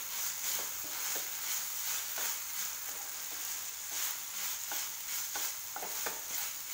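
Cooked rice for tomato rice is stirred in a pan over the flame, a spoon scraping in repeated quick strokes against a soft continuous sizzle, close and alone with no talk.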